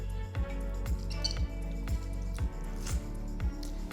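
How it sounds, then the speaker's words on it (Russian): Soaked gelatin sheets squeezed by hand to press out excess water give off soft, wet squishing and dripping, repeated in a steady rhythm under background music. "Набухший желатин я отжимаю от лишней воды"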